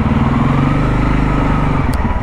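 Motorcycle riding on a winter road near Brezno, Slovakia, in January, on the way to a winter motorcycle rally: a steady, loud engine drone with low harmonic rumble holding throughout, close to the listener.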